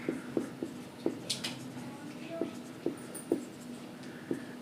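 Chalk or marker writing on a board during a Class 10 maths lesson on real numbers, with a string of light taps and short strokes, close and fairly quiet over a low steady hum.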